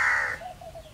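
A single crow caws once, a short rasping call fading off, fairly quiet with no talking.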